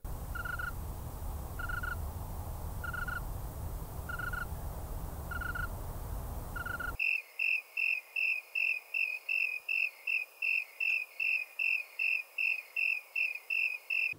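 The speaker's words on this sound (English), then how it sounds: "When they sing, tree crickets raise their wings straight up and then vibrate them side to side." Rhythmic tree cricket chirps repeat in short evenly spaced pulses, first over a noisy background, then clear and loud against silence.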